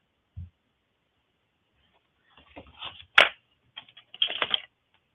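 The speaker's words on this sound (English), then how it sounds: "Now we are going to cut the long pieces of the score marks on each side." Scissors cutting along scored paper edges while making library pockets, a few short crisp snips and rustles close by, with quiet gaps between cuts and no speech.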